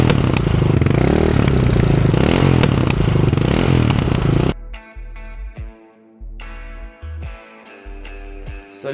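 A Yamaha Raptor 660 quad engine idles loudly and raggedly, then drops into sputtering, irregular bursts of backfire-like pops and crackles from the exhaust as it throws flames.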